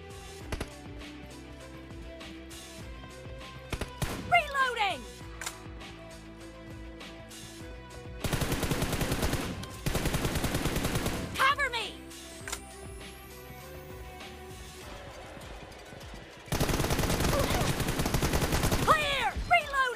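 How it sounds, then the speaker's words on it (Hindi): Mobile shooter game gunfire from a PUBG team deathmatch: sustained bursts of rapid automatic fire in two long stretches, with shorter shots and game sounds in between. "तो भाई मैं फायर करता गया इधर से इधर"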